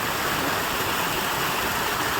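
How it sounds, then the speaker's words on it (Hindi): Village waterfall flowing from a mountain peak, a dense, constant roar of falling water, loud and unbroken throughout with no voices. "यहाँ पे देखो ये झरने ही झरने बह रहे हैं आजकल।"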